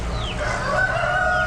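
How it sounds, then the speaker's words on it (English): Barred roosters at an Amish animal auction crow and cluck, a drawn-out crow rising close by above a constant low rumble of the sale barn. "Roosters. More roosters. More roosters."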